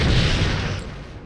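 A torpedo explosion in Star Trek: Bridge Commander lands as a loud, close boom with a deep rumbling burst that fades away over about a second.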